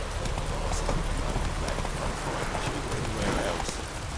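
Roach the horse gallops in The Witcher 3, a steady clip-clop of hooves running continuously at close range over a broad, noisy wash of rain-like background.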